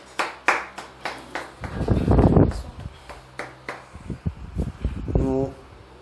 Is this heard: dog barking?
no